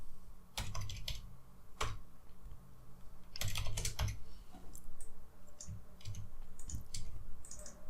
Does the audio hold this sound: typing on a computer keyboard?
yes